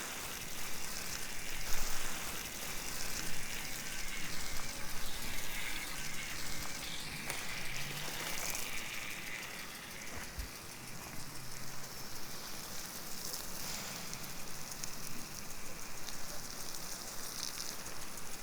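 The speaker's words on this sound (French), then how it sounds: "Du coup j'arrose, mais sinon j'arrose tous les 3 jours." Water sprinkles steadily onto garden plants in the evening, a continuous soft hissing patter with a few louder splashes, no talking.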